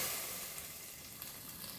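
Mustard seeds, curry leaves and cut Byadgi or Guntur chillies sizzle in hot tempering oil for Palakkad-style sambar, a steady, close crackling hiss that plays alone and eases slightly toward the end.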